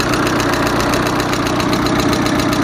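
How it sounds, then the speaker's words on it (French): A rebuilt Peugeot 206 engine runs loud and close with a rapid, steady clicking tick and a harsh, noisy exhaust, the racket continuous without pause. "Pourquoi elle fait clic clic clic clic? Je sais pas, c'est vrai qu'elle fait un peu de bruit. Et elle fait vachement de bruit à l'échappement."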